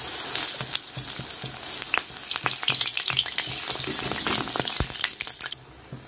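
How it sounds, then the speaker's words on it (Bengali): Besan-coated ripe jackfruit pakoras frying in hot oil over low flame, a dense crackling sizzle with frequent sharp pops and spatters, close up and loud, fading out abruptly near the end. "আমি এটা এবার হালকা হালকা হালকা আঁচে লাল লাল করে ভেজে নেব।"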